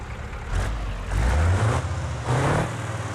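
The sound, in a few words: V8 truck engine revving in BeamNG.drive video game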